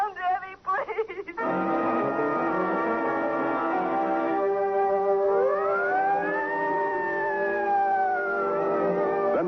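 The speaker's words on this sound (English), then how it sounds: "Then the sirens howl because the man is dead" A loud, continuous siren wails with rising and falling pitch as a 1950 radio drama sound effect, sustained throughout after a brief burst of noise at the start.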